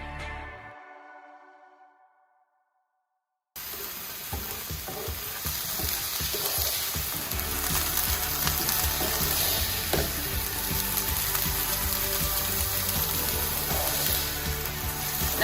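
Seasoned ackee sautés in a frying pan, sizzling and crackling loudly and steadily with stirring scrapes, preceded by a brief ringing clink and a moment of silence, with no talking.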